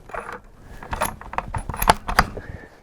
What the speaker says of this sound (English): if I can get that bolt to close on the empty